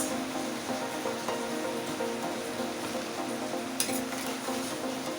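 Fish and meat cook in a pot of Edikaikong soup, with a dense bubbling, crackling simmer and occasional stirring scrapes, loud and close, with no talk.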